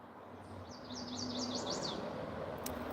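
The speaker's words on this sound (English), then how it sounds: "The birds" A bird sings a short series of rapid, high, sweeping chirps against a steady outdoor hum, fairly distant and alone.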